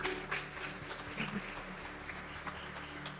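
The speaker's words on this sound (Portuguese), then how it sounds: "Você pode aplaudir o Senhor?" Congregation at a Christmas service applauding, a steady, fairly quiet patter of clapping with a low hum running underneath throughout.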